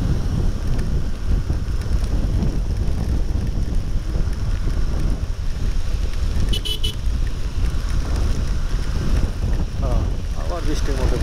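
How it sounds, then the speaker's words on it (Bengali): Steady, loud wind roar and rain noise while riding a motorbike through a rain shower, continuous for the whole stretch, with a brief higher horn-like tone partway through. "আবার বৃষ্টির মধ্যে পড়ে গেলাম।"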